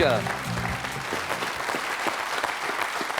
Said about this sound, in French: On va applaudir le Père Noël en ce 24 décembre.